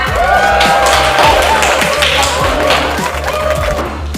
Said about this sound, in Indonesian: Tepuk tangan untuk Sekia.